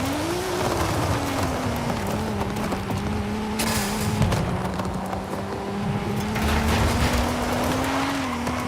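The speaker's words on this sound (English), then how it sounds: "Let me see if I can drift this thing around here a little bit in the drift test track." A car drifting around a test track in Forza Horizon 5, its engine droning steadily while tires squeal and skid through long slides, loud and continuous with no talking.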